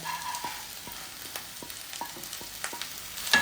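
Okra frying with small onions, ginger and green chilli in a pan, a steady sizzle broken by repeated spatula scrapes and stirs, close and without speech.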